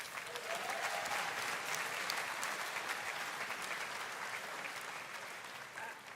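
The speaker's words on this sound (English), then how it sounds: "That deserves a round of applause." A large audience at a Roblox presentation event claps in sustained, even applause, a dense wash of hands heard from the room that holds steady throughout before easing slightly at the end.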